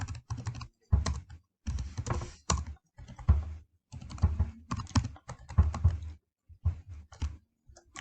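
Java code is typed on a computer keyboard in fast bursts of crisp key clicks, with short pauses between runs and a close, fairly loud sound throughout.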